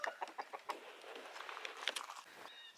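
Barney the rooster and his hens in their coop, giving soft, repeated clucks and murmuring calls at a moderate distance, steady and low-key with occasional brighter chirps.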